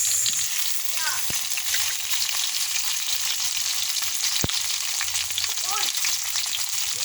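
Tomatoes sizzle in a pan with a frying egg omelet, a steady close hiss with occasional clicks and faint voices in the background.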